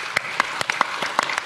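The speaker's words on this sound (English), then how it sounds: "Keep your applause going." Audience applause at a community flood recovery information update in Mooroopna, with scattered individual claps giving a brisk, uneven patter that is moderately loud and steady for a short burst.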